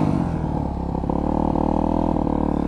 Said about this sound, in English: I'm just spinning the wheel.